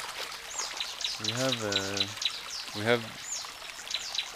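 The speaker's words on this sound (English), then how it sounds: "Now we're crossing a river." Seasonal river water trickles and pours steadily at a river crossing, with birds chirping repeatedly and a person speaking over it.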